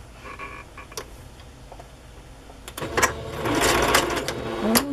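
Sewing machine stitching down the bottom edge of lace, quiet ticks at first, then a steady rapid whirring run building louder toward the end.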